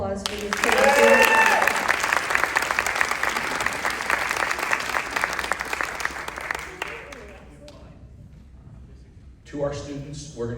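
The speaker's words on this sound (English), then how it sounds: "Can we have another round of applause for these kids?" Sustained, dense applause for children at a Minisink school board meeting, loud and steady for about seven seconds before fading, followed by a voice speaking near the end.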